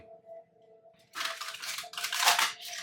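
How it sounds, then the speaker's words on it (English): Tarot cards being shuffled for a full moon reading, a soft start followed by a burst of dense papery riffling and flutter that swells to louder bursts, heard up close with no talk. "Last shuffle."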